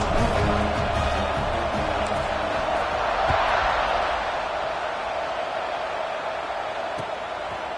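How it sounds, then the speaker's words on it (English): Football stadium crowd buzzing after a touchdown, a steady, dense roar of many voices and cheers that holds at a constant level and tapers only slightly. "this crowd is buzzing after that last score"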